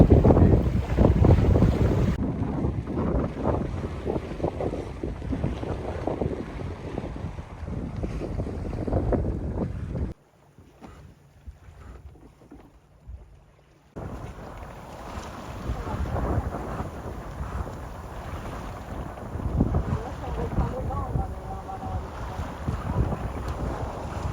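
A sailboat running under full sail, with steady wind roar buffeting the microphone and water rushing along the hull, loud and continuous apart from a brief sheltered lull midway.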